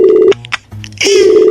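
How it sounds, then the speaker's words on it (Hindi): Telephone keypad dialing tones for a prank call, a steady tone, a quick sequence of short beeps, then another sustained ringing tone, loud and close with no talk. "नितिन ने फोन किया बउआ को"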